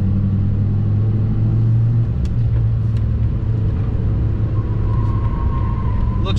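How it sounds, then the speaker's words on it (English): A Fiat Abarth 500 hatchback on lowered Eibach springs accelerates hard toward top speed near an empty roundabout, its engine a loud, steady close-up drone heard from inside the cabin over six seconds. "Let's see what the maximum speed the Fiat can put out."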